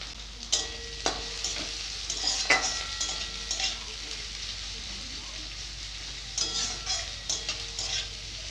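Chopped onion fries in mustard oil with crushed garlic, a close sizzle broken by repeated scraping stir strokes in irregular bursts, with no talking.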